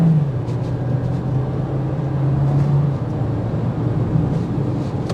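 A 2023 Volkswagen Jetta SE sedan accelerating under Tiptronic manual shifting, a steady engine drone with a low tone that holds and then shifts slightly, heard from inside the cabin at moderate level with no talking.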